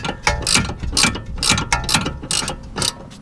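A ratchet wrench clicks in quick, loud bursts close by as it loosens a lock nut on a Lexus GS430 F Sport sway bar, about seven rapid strokes, each a crisp ratcheting rattle.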